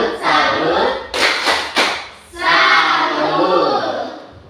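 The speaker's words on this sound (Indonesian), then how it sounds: "Jadi mari kita mendirikan tepuk salut untuk Nindi" A group performs the 'tepuk salut' clap routine: a few sharp, loud claps stand out amid a noisy, crowded room with voices in between.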